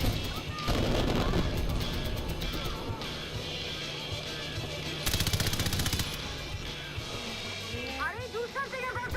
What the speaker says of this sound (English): Do something about those machine gun nests!